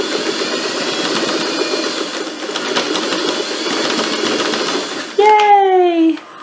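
A sewing machine runs steadily while stitching an X across the strap of a crazy quilt tote bag, with a continuous whirring hum that stops abruptly near the end and is followed by a brief high sliding tone.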